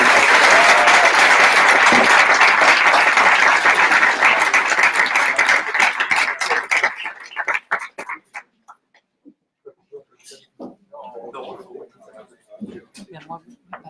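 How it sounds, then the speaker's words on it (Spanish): Audience applauding at a book launch for Economía Política de la Política Económica: dense, loud clapping for about seven seconds, then thinning to scattered claps amid murmured talk and shuffling. "Y un aplauso de nuevo"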